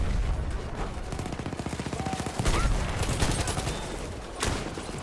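Battlefield 1 shotgun fire in a tournament match, sharp gunshot bursts crackling over dense battlefield noise with steady background gunfire throughout.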